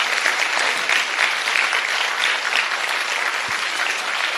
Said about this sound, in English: Let's give all the candidates one more round of applause.